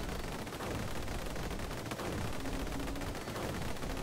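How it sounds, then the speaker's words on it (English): Rapid Fire weapon in the video game Vampire Survivors: a continuous, dense stream of quick gunfire-like pops, loud and unbroken, layered over busy game noise with no speech. "Rapid fire."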